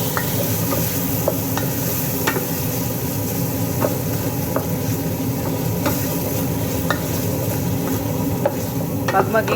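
Tomato paste fries in a pot for an Arabic lentil soup, giving a dense, steady sizzle close to the listener, with repeated light clicks and scrapes of a stirring spoon throughout and no speech.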